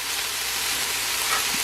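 Onions and peppers sauté in a hot pan, giving off a steady, even sizzle and crackle that holds close and moderately loud for the whole short stretch, with no talking over it.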